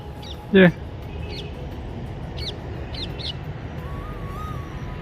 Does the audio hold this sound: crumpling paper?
no